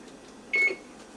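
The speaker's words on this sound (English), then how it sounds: "As you can hear, our timer is going off." A kitchen timer goes off with a single short, clear electronic beep in a quiet kitchen, standing out briefly against faint background hum.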